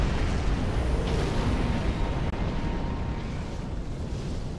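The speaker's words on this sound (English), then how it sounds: "Cluster torpedo launcher is pretty sweet." A cluster torpedo launcher firing in the space game Star Trek Online, a loud sustained rumbling roar of weapon blasts and explosions filling the whole stretch, steady and heavy with no talk.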